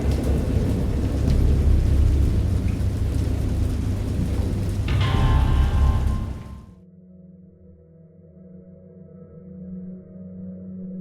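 Steady heavy rain with deep rumbling thunder, loud and enveloping, then cutting abruptly to a quieter low hum with faint tones.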